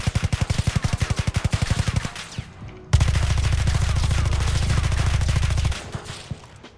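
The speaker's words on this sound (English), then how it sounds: "Let's test out the AK now." AK rifle firing in the game Electric State: DarkRP, two rapid automatic bursts of sharp, evenly spaced shots, the second denser and heavier, loud and close with no talking.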